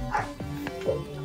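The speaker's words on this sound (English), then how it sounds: "Why is your fucking dog barking?" A dog gives a few quick, fairly close barks and yips in a loose rhythm, heard over a faint background hum.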